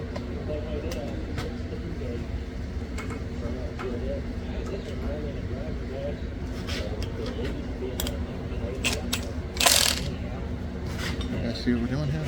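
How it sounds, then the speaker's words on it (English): Wrench work on a nut of a Pontiac LeMans during a road tour, with scattered metallic clicks and clanks of the tool over a running background rumble while people talk nearby. "We have a wrench. Yes, we do. We're going to tighten it up."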